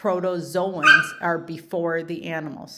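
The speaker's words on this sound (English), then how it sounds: "Sorry, that's my dog." A dog whimpers and gives short yips and barks indoors, mixed in with and partly under a person's steady talking throughout.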